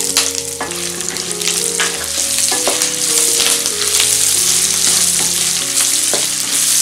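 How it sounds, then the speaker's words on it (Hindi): Curry leaves and green chilies hit hot oil for Diwali poha chivda, giving a loud, sustained sizzle and crackle with steady stirring and repeated clinks of a utensil against the pan, no talking. "अब हम इसमें करी लीव डालेंगे हरी मिर्ची डालेंगे"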